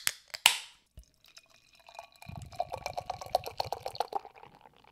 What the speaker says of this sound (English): I like the way these pour into a glass too.